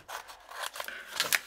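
Scissors snip through Cricut transfer tape in several quick, crisp cuts with a papery rasp, close and fairly quiet, with no voices.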